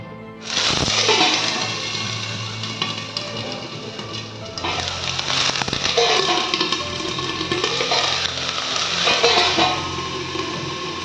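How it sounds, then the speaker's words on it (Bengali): Eggplant pieces dropped into hot oil burst into a loud, continuous frying sizzle that holds steady and close for several seconds, with faint stirring and pan knocks along the way. "তেলটা গরম হয়ে গেছে, এর মধ্যে আমি বেগুনগুলো দিয়ে দিচ্ছি।"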